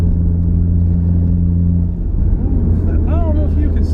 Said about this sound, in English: I took the car out for a little cruise. The GoPro was filming me and I got what was happening on camera.